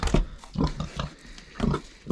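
Large White pigs grunting repeatedly on a farm, close and fairly loud, a series of short rough snorts and grunts spaced irregularly.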